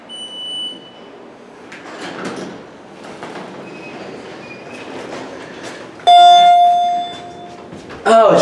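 Quiet background talk and movement, then a single bright electronic elevator arrival chime rings out clearly and fades, followed by a sliding door sound, at a hydraulic elevator in Chauncey Square, Dobbs Ferry, New York.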